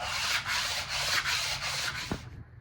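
Sandpaper rubs back and forth over a motor part being prepared for assembly, a close, rhythmic scratchy rasp repeating in steady strokes of roughly even length.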